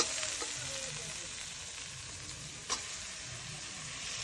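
Food being stirred and mixed in a frying pan with a gentle continuous sizzle, a few soft scrapes of a spatula and one brief sharper clink near the end; no speech.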